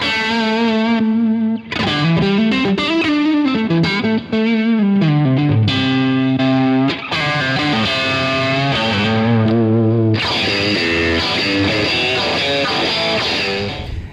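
Electric guitar played through a Strymon Compadre treble boost into a Plexi amp, giving a loud, bright, overdriven tone with sustained chords and single-note lines ringing alone without any talking.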